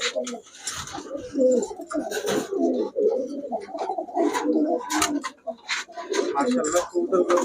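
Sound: female Pakistani pigeon cooing

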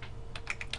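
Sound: typing on a computer keyboard

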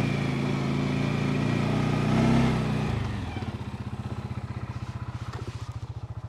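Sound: farm vehicle driving past

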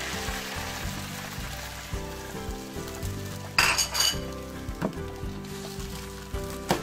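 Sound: eggs cooking in a hot frying pan

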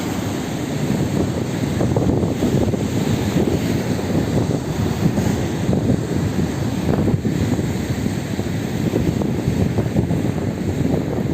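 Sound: rough waves crashing on Ayancık shore, with wind

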